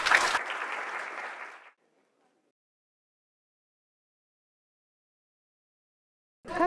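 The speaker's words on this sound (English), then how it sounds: "a big round of applause to all of them for delivering such wonderful speeches" Applause from an audience fades out over about two seconds. Silence follows, then a short burst of sound returns at the very end.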